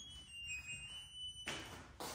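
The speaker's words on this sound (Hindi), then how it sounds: "अलार्म से सुन रहा है ना" A washing machine's end-of-cycle alarm beeps indoors, high thin tones sounding faintly at first and then two louder bursts close by, with no one talking.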